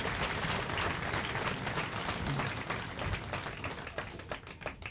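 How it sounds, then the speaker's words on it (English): An outdoor crowd applauds at the unveiling of a statue of Bobby Sands, a dense, steady wash of clapping from many hands that thins slightly toward the end. "would you give a round of applause to everyone involved for their valiant efforts"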